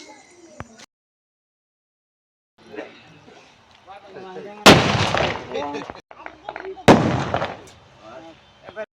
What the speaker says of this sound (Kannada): ಪಟಾಕಿ ಹಾರಿಸ್ತಾ ಇದ್ದಾರೆ